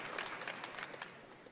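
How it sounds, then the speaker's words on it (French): Audience applause at a video game showcase event, Summer Game Fest 2023, a steady wash of many hands clapping throughout with a few louder bursts standing out. "Pourquoi vous applaudissez?"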